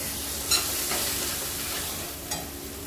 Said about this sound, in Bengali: আমাদের দিয়ে দেবো মশলার ভিতরে তড়কা ডাল।